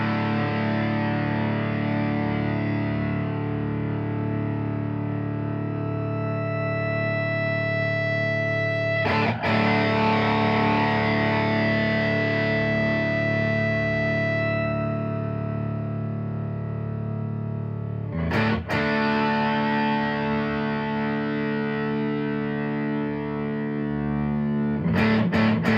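Heavily distorted sustained electric guitar chords with rich harmonics through a Source Audio distortion pedal, the drive level changing over time, broken by a few sharp pick or switch transients.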